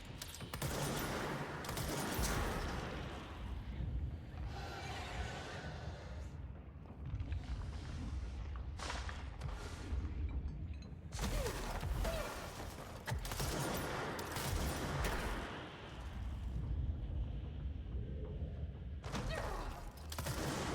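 Gunfire from the video game Control, with dense bursts of shots and heavy thuds in several clusters separated by brief lulls, loud and continuous across the scene with no talking.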